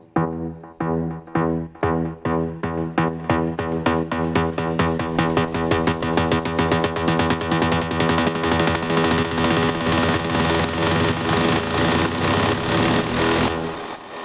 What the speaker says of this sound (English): our arpeggiator is triggering the synth